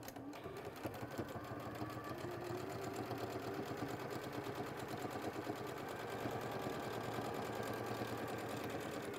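A sewing machine runs nonstop, top stitching fabric for a quilt-as-you-go project, with a steady, close, mechanical whirr and rapid needle patter throughout.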